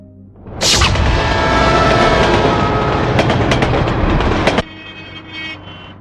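A train passes through a railway station, a loud rumbling roar with rattling wagons that starts abruptly and holds steady for several seconds, then drops to a lower rumble with brief high squeals.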